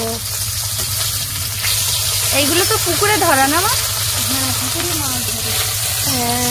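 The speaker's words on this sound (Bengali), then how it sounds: "পার্শে মাছ আর তেলাপিয়া মাছ ভাজা করছো?" Parshe and tilapia fish fry in oil with a steady, close sizzle that runs underneath a conversation between people.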